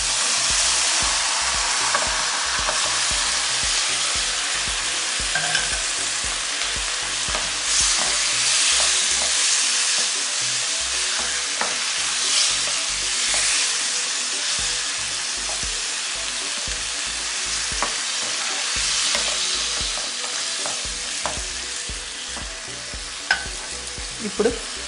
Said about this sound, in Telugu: ఇప్పుడు మనం ఫైనల్గా మనం చికెన్ వేసుకుంటున్నాం.